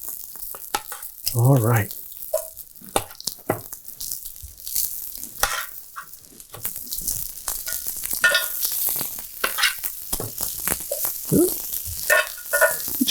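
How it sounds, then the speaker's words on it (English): Asparagus spears sizzle on a very hot grill as they are laid out with tongs, a steady close crackle broken by clattering handling noises, with a brief spoken word partway through. "this way so we get the grill marks on the spears of asparagus"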